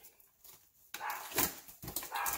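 A dog in a home kitchen, heard in short bursts of barking or whimpering that come and go amid nearby rustling and handling noise.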